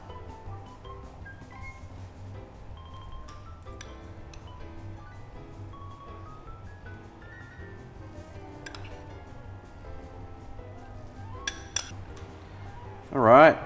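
A spoon bastes liquid over prosciutto-wrapped quail in a pan, with light metallic clinks and taps against the cookware over a quiet background, ending in a louder clatter.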